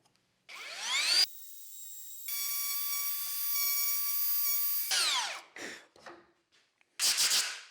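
A wood router cuts a quarter-inch-deep mortise along a guide-rail jig, a loud high whine rising as it spins up, holding steady for several seconds, then winding down, followed by a few short bursts.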